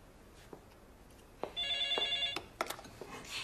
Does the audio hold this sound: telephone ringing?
yes